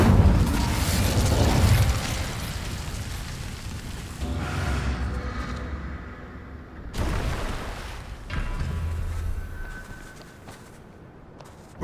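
Incendio fire spell cast in Hogwarts Legacy, a series of loud whooshing fiery bursts with booming low rumble, several blasts in succession fading between them.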